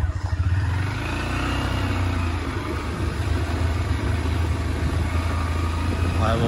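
A motorcycle engine drones steadily up close while riding, with a constant rush of wind over it.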